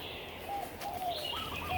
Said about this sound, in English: there's weird noises coming from up here. Of course, they may be just doves.